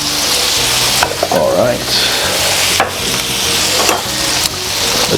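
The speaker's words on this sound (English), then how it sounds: "And once again, mix it all up." A spoon scrapes and stirs paella ingredients with Serrano ham and foie in a hot frying pan, under a constant loud sizzle with a few wooden knocks, while a voice briefly speaks.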